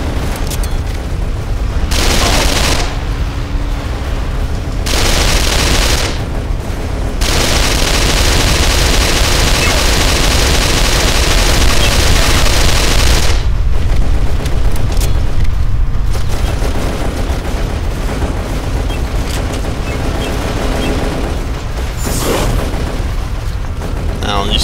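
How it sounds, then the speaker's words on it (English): Weapon fire from the heat-seeking gun in the video game Darkest of Days, booming bursts repeating loudly across a dense battle din, with breaks of quieter sound between volleys. "Something tells me I should use my heat-seeking weapon for this part."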